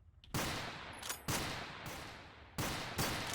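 Gunfire from a soldier in the war game Total Conflict Resistance: a few sharp, fairly quiet shots spaced irregularly across the stretch, each trailing off in a short decay, with no speech.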